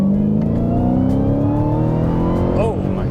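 A 2021 Dodge Challenger Hellcat Super Stock revs up under hard acceleration, its loud, close engine note climbing steadily in pitch through a single gear, with a brief voice near the end.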